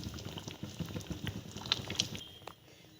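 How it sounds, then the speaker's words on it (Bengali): Fish and potato curry (machh aloo jhol) boiling in a pot, with soft bubbling and popping plus a few sharp clinks, close and fairly quiet. "মাছ দিয়ে আমি 5 মিনিট ফুটিয়ে নিয়েছি"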